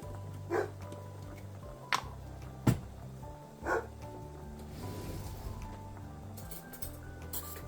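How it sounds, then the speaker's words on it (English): A few short, sharp dog barks ring out at irregular intervals, somewhat distant and moderately loud, over a quiet background hum. "Don't mind Forrest, he barks at everything."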